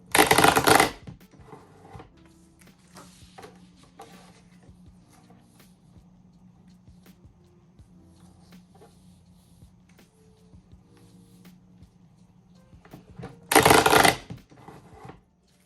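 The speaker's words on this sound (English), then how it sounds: "Here's what the machine sounds like when you're pressing down." A Rayson TD-130 wire binding machine punches a stack of paper sheets, two loud crunching presses at start and end with faint clicks and low hum between, close up.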